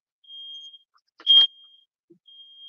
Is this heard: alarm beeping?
yes